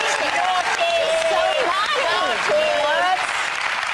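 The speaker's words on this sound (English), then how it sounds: "Clap for her." Loud, dense studio audience applause for comedian Kathy Griffin, with cheering and whooping voices rising over the clapping throughout and a brief spoken word at the start.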